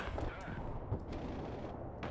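Vehicle guns firing in the video game Broken Arrow, a steady rattle of repeated shots blended with battle rumble, moderately loud throughout the short stretch.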